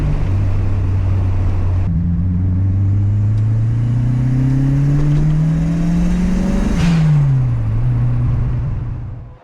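A VW Golf 2 with a 1.3 litre turbo engine revs steadily upward for several seconds, then drops back briefly, a loud, close, continuous engine note with no talk over it.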